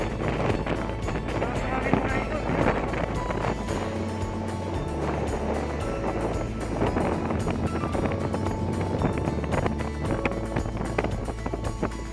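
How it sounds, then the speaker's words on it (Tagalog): Strong wind at C4 Navotas City, a former bus terminal, roars steadily into the microphone, a loud continuous rumbling buffet throughout, with faint voices partly buried beneath it. "Napakalakas yung hangin, parang lilipa rin ako"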